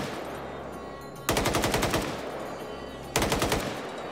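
Automatic weapon fire from a vehicle in a video game, two sharp bursts of rapid rounds separated by a stretch of engine-like droning, loud and close, with no speech.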